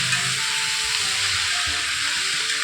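Mixed vegetable sabzi frying in a pan, a loud continuous sizzle with soft stirring scrapes underneath, close and steady with no talking.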